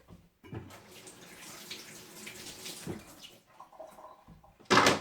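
Tap water runs steadily into a sink while vegetables are washed for a rabbit plov, close and moderate in level, with a brief clatter near the end.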